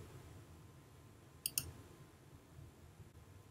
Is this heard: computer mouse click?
yes